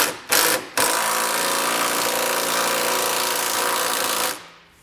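Steady, loud mechanical whirring of a power tool driving trailer hitch bolts on a 2011 Ford Edge during a Curt receiver install, running continuously for about four seconds after two short bursts, then cutting off.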